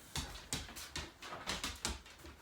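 A dog whimpers and whines indoors in short repeated bursts, about eight soft cries at a steady rhythm. The sound is fairly faint and close, with no talk over it.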